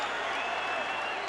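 A boxing arena crowd applauds and cheers steadily in a dense, continuous wash of clapping and voices, fairly distant and even in level throughout.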